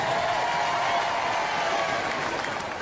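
Audience at a Nickelodeon Robot Wars event applauding and cheering for team Hoot, a dense, steady wash of clapping and crowd noise that carries loud and unbroken throughout.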